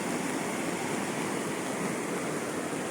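Floodwater of a river in Wayanad bursting its banks, a torrent with collapsing sides, rushes in a steady, dense roar that fills the whole stretch without pause or talk.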